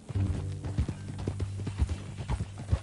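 Horse hooves clip-clopping at an easy walking pace in the video game Red Dead, steady and close, with faint tonal background sound underneath.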